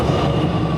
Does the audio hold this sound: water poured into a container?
no